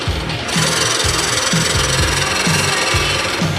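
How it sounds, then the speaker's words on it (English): A lathe gouge cuts a taper into spinning wood, giving a steady, close scraping rasp with rhythmic low thumps about every half second, continuous and loud with no talk. "And I can bring the gouge in, taper back up into my first cut."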